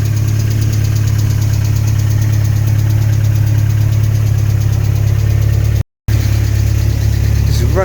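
A Vauxhall Astra GSi Redtop, a rare barn-find car, idles close by with a steady, loud, even engine note and a slight knocking texture. It cuts out briefly near the end, then picks straight back up.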